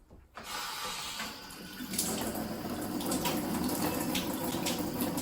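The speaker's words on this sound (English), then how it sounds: "the alkaline ionized water is going to come out from here" Alkaline ionized water runs steadily from the outlet of an Air Water Life ionizer machine, a continuous close splashing stream that begins abruptly after a brief quiet start.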